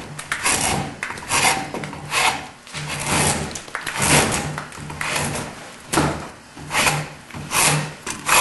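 A drawknife peels bark off a log clamped in a vise, heard as loud rasping scrapes drawn in repeated strokes about one to two seconds apart, close and with no voices over it.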